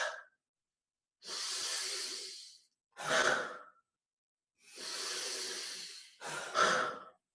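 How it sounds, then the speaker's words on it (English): Deep, slow breaths during a breathwork session: long drawn inhales alternate with forceful exhales in a steady rhythm, four or five close, airy breaths separated by short silences. "we're going to get into this rhythmic breathing"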